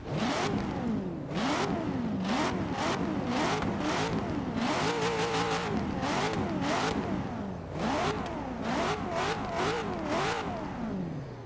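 Dodge Viper ACR V8 engine in the Forza Horizon 3 video game, revved hard again and again in rapid bursts that rise and fall, loud and close with no talking.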